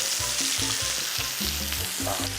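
Pork belly (samgyeopsal) frying on a grill, a steady close sizzle with crackling spatter and low rhythmic tonal hum pulses throughout; no talking.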